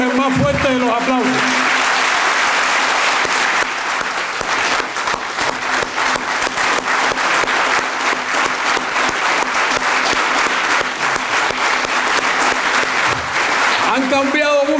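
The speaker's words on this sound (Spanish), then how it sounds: "Para ellos el más fuerte de los aplausos." Loud, sustained applause from a large audience at a commemorative ceremony in Cuba, crowd clapping continuously for nearly fifteen seconds with a brief voice near the start and a faint hum underneath.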